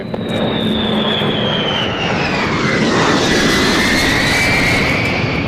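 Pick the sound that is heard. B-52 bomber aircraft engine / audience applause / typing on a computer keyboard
B-52 bomber aircraft engine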